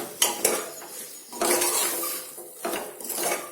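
A utensil stirs gavar (cluster bean) vegetable in a pan, making close scraping and clinking strokes in short bursts with a light sizzle underneath.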